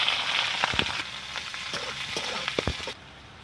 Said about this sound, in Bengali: তো আমি এখানে লঙ্কা কুচি আর পেঁয়াজ কুচি দিয়ে দিলাম।